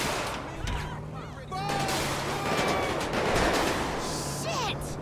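Rapid gunfire crackles in a GTA 5 street shootout, a sustained volley of overlapping shots with distant and nearer bursts, mixed with game ambience and voices.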